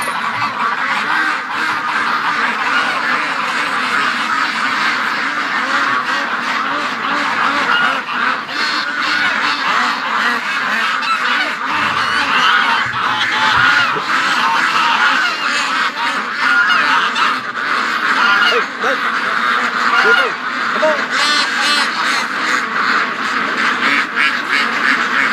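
A crowd of ducks and geese at a lake quack and honk continuously and loudly, many calls overlapping near and far with no letup.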